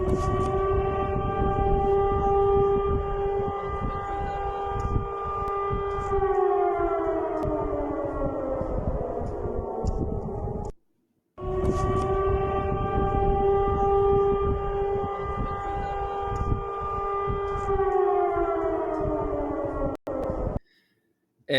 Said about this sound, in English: you can hear these air raid sirens going off